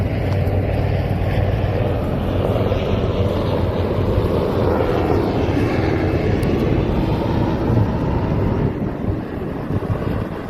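A helicopter roars close by with a loud, continuous low rumble and engine drone, windy and steady throughout, no talking.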